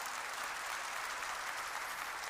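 Congregation applause during a Korean church sermon, a continuous even roar of many hands clapping, fairly distant and sustained without a break.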